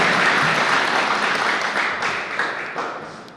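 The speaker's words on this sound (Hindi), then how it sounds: "मेरा मन है कि पूरा सदन एक बार जोरदार तालियों से उनका स्वागत करे।" A hall audience at an all-India poetry gathering claps loudly to welcome a poet, the applause strong at first and then gradually thinning and fading toward the end.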